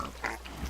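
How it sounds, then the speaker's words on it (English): A pig oinks faintly in a Minecraft farm, one short grunt over a low background hum. "so I redesigned my little pig farm down here with the same idea"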